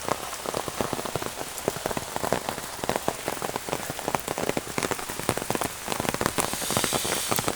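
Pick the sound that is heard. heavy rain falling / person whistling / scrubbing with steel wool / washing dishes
heavy rain falling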